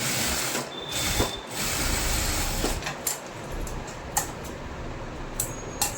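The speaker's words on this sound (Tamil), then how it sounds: "ஷோல்டருக்கு இன்னொரு தையல் போட்டுக்கலாம்" A sewing machine stitches the shoulder seam of a blouse in short bursts, a faint buzzing whir with clicks and pauses between runs, heard at a distance with no talking.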